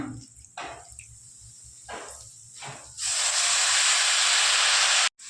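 Water splashes and hisses as arai keerai greens are pressed down and rinsed in a vessel, a few short sloshes followed by a steady, louder rush of running water near the mic.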